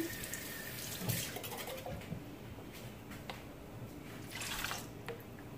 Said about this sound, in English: So I'm just gonna add some water to my can.